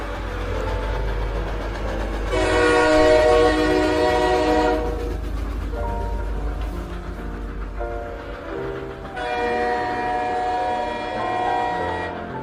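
A train horn sounds in two long, loud, droning blasts over a low rumbling engine and rolling wagons, set as a sound effect in a horror audio story.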